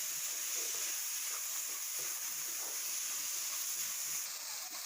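Tomatoes frying in a pan for a Tamil chicken curry (kozhi kulambu), giving a steady, close sizzle and hiss that holds evenly throughout, with no talking.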